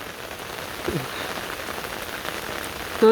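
Steady rain patters on a surface in a constant, soft hiss, with no voices.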